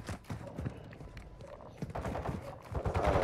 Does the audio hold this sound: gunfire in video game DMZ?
yes